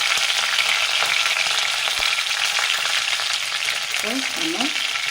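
Curry leaves hit hot oil already holding cinnamon, cloves, bay leaf and fennel seeds, giving a loud, dense, continuous sizzle up close with faint crackles and no talking.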